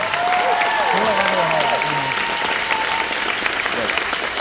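An audience at a school sports awards ceremony applauding student athletes, a continuous loud clapping wash with scattered voices and a shout or whistle riding over it.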